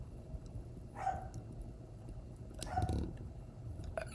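A dog barks a few times at a distance, faint and spaced out, over a low background hum.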